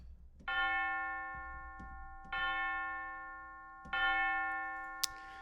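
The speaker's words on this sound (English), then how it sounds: "And then Cineperc, which is the bell tower" A bell tower sample from a cinematic percussion library: three separate tolls, each ringing out with a long, shimmering decay, followed by a short sharp click.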